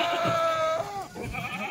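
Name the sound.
goat bleating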